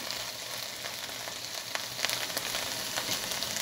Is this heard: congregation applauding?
no